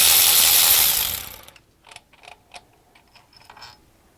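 A ratchet wrench backing out the second bolt on a CAT C7 diesel injector: a loud washing noise fades out, followed by quick irregular clicking ratchet strokes, close and otherwise quiet.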